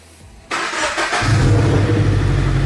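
A Mazda 3 engine starts: a quiet moment, then the starter catches with a sudden burst and the motor quickly settles into a loud, steady idle rumble close by.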